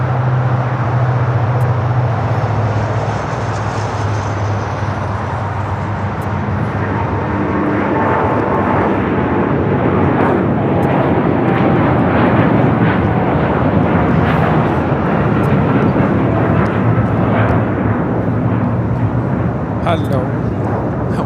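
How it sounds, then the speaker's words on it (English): A United Airlines Boeing 787-9 Dreamliner takes off from LAX bound for Hong Kong, its jet engines building into a loud, broad roar that swells and holds, with people talking over it throughout. "It's United Airlines 152 taking off to Hong Kong on the 787-9 Dreamliner."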